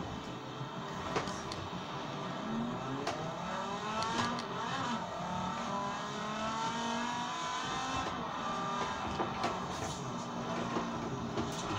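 A Viper race car's engine drones steadily in a racing video game, its pitch climbing and falling through gear changes at a constant, moderately loud level, with no talking.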